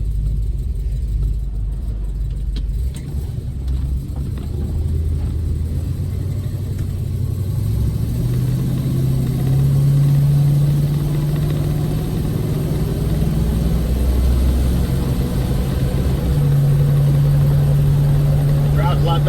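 1972 Plymouth Road Runner engine rumbling steadily while driving, low tones rising and falling through gear changes, with road noise underneath and a voice talking over it.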